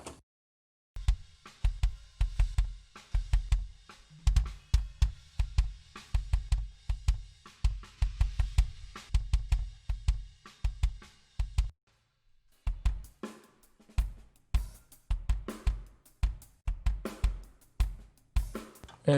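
Kick drum captured on a single Beta 57 bass drum mic, a steady run of punchy, close low thumps in a driving rhythm, with a short pause before the beat resumes.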